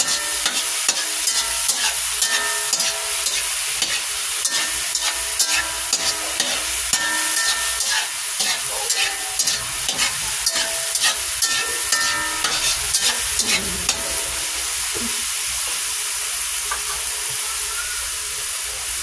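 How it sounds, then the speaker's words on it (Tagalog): Bagoong alamang shrimp paste being stirred and fried in a pan, a steady loud sizzle and hiss with the repeated scrape of the spoon across the pan and no talk. "Paghalo-haluin lang natin guys hanggang sa maluto po ang mga ito."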